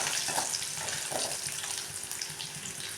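Pieces of elephant foot yam and curry leaves frying in hot oil, giving a continuous close crackle and sizzle with scattered bright pops and no one speaking.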